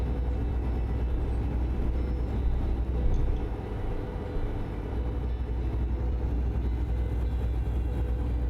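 A steady, low truck engine rumble in American Truck Simulator drones on without a break, with a constant mechanical hum and no voices.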